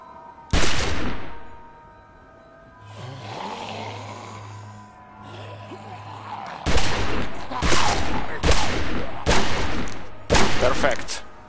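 Gunfire from shooting zombies in The Walking Dead video game: one loud, close shot, a stretch of low droning ambience, then a quick series of about five sharp, heavy gunshots in steady succession.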